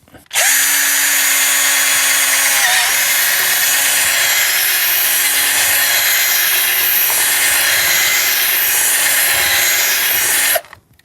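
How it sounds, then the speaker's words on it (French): A power drill bores holes while a holeshot kit is fitted to a motorcycle: one steady, loud whine runs about ten seconds with no talk, a brief pitch dip partway, then stops abruptly. "Et maintenant, on va pouvoir percer."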